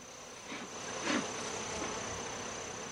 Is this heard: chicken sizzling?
no